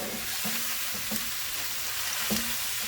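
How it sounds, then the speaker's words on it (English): Pork and onions fry in a pan with a steady, close hiss. A utensil scrapes and stirs through the sizzle a few times, and no one talks. "you're going to add your pork and then start to mix it up"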